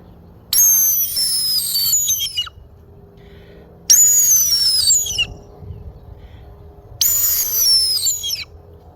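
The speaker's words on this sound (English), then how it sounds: "I'm just going to pull the call up, and I'm just going to exhale with one big long blast of air" A squirrel whistle call blown three times, each a long, high, descending squealing blast lasting over a second, separated by pauses.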